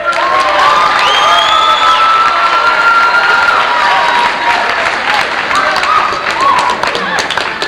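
A crowd claps and cheers loudly and continuously, with shouting voices and whoops mixed through the applause.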